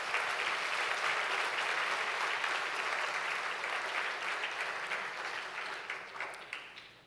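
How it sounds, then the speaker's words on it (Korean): A crowd at a university president's inauguration ceremony gives warm, sustained applause for welcomed guests, a dense even clapping that slowly tapers off over about seven seconds. "큰 박수로 환영해 주시면 감사하겠습니다"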